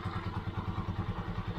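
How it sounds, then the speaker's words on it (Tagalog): A Honda TMX 125 Alpha motorcycle engine idles close by with a steady, rapid low thumping and a mechanical clatter. No other sound rises above it. "Pero nakasindi pa yung makina niya."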